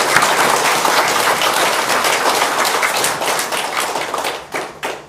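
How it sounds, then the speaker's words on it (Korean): A church congregation claps together, a dense, steady burst of hand applause close and loud, thinning out and tapering off near the end. "우리 주인교모하고 부교모님께 한 박수 한번"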